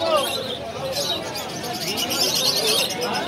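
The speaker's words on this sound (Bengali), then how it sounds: "ককটেল পাখিও আছে।" Cockatiels and lovebirds chirp and twitter at a busy pet market street, a dense layer of overlapping bird calls close by with people talking over them.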